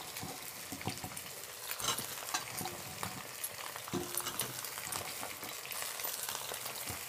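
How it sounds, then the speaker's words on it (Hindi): Potatoes and cauliflower frying in a pan for a bhog offering, a continuous crackling sizzle with scattered scrapes and knocks of stirring throughout. "अब इसको हम भून लेंगे अच्छी तरह से।"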